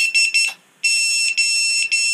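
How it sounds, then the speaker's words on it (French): A small buzzer on an RC racing drone beeps loudly and close up while the drone is disarmed. It sounds a quick run of short high-pitched pulses, pauses briefly, then gives longer sustained beeps broken by short gaps. "Donc buzzer"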